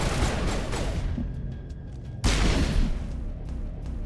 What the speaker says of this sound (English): They're exploding.